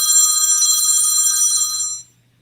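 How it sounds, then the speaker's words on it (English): A phone rings with a bright, tonal electronic ringtone, loud and alone, holding steadily for about two seconds before cutting off into near silence. "let me put my phone on silent so it's not interrupted again"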